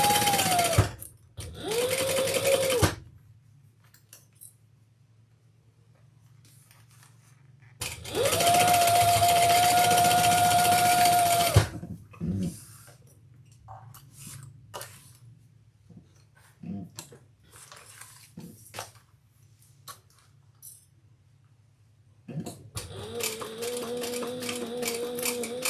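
A sewing machine stitches the bottom seam of a leather crossbody handbag in several sharp bursts of whirring, separated by long quiet pauses, loud and close.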